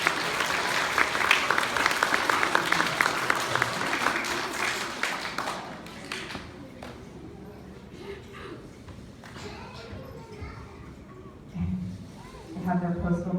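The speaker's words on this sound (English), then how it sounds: "We'll give him a round of applause." An audience at a school character award ceremony breaks into lively clapping that fades out after about six seconds, leaving a quieter room with scattered bumps and a brief voice near the end.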